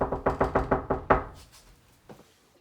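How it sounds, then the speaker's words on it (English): A door gets a quick run of about seven loud, close knocks in a steady rhythm, followed by a faint single tap after a short pause. "Who's knocking in the middle?"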